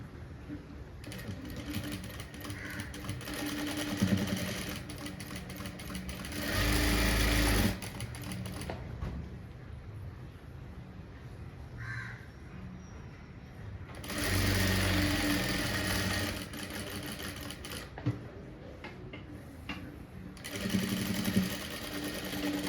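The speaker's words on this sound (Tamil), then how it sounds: "இதையும் தைச்சி முடிச்சாச்சு." A sewing machine stitches the front part of a blouse in several loud runs, with quieter pauses between them.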